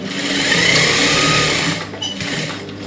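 A sewing machine stitches a silk skirt in a fast, even mechanical whir, loud and close, slowing briefly near the end before running again.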